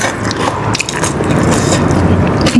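Close, loud crunching of crispy pork being bitten and chewed, a dense continuous crackle with repeated bites and no speech.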